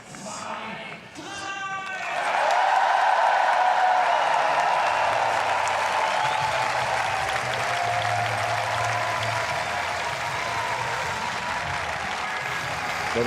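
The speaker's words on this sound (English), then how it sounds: "that was an extra big cheer" Crowd at the European Championships triathlon in Munich bursts into loud sustained cheering and applause that swells after a brief moment and holds steady, with an announcer's voice faintly underneath.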